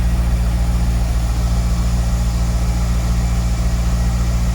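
A Corvette drift car's engine runs nearby, a loud, steady, deep rumble that holds an even idle-like drone from start to finish with no voices.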